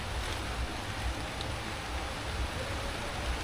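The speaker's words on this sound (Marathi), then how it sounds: "मोठा आला आवाज बघा भरपूर वारा पण सुटला आहे आणि पावसाचं पण वातावरण आहे पाऊस पडतो आहे" Heavy rain falls with strong wind outdoors, a dense continuous roar with a gusty low rumble, steady and loud throughout without speech.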